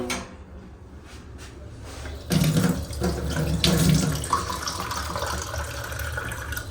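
Water runs from a tap and pours into a glass, starting quietly then becoming a steady splashing stream close by.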